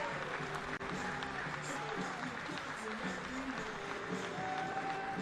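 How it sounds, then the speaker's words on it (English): East Carolina fans stand and applaud at a college baseball game against Duke, a steady wash of distant crowd clapping running under a commentator's continuous talk. "the East Carolina fans in attendance standing and applauding the effort of Agnos"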